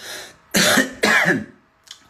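Two harsh, loud coughs in quick succession from a person ill with a cough and fever, followed by a faint short huff at the end.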